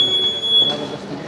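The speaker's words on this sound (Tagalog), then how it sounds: "So, bakit may nag-a-alarm?" An alarm sounds in an airport terminal on arrival in Vienna: a steady high-pitched electronic tone rings continuously for about a second amid a busy, reverberant hall hum.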